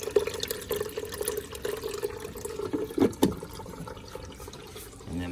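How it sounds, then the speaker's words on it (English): Water pours down through a box into a home aquarium's overflow, a soft continuous trickle and splash with a few louder gurgles near the middle. "Comes down through this box into my overflow."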